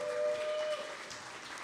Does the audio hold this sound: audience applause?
yes